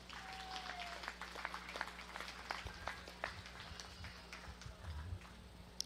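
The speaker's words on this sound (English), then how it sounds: "So let's give them a round of applause." Scattered, fairly faint applause from a small crowd outdoors at a county fair sheep and goat show ring, uneven claps over a low steady background hum.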